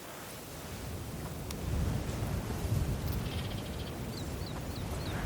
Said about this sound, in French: Et puis, une tempête approche.